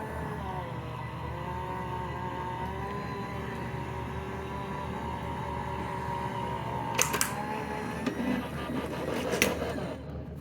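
A manual die-cutting machine rolls a card sandwiched between cutting plates through with a butterfly die, a steady low mechanical grinding hum lasting several seconds, ending in a couple of sharp clicks, with no voices.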